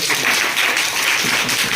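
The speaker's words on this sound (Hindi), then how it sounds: "एक बार फिर ताली बजा दो।" Audience of school children applauding during a science quiz competition, a brief, dense burst of clapping heard close and steady throughout.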